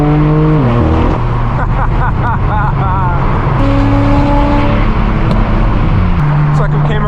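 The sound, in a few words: straight-piped BMW M4 F82 loud exhaust driving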